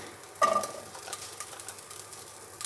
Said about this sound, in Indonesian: kemiri, bawang putih, bawang merah, lengkuas, kunyit, cabai, semuanya disangrai